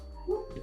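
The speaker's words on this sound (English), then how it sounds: "As you can hear all these dogs going ape shit behind me." Dogs bark outdoors in the background, a single short faint yelp or bark heard at a distance with no talk over it.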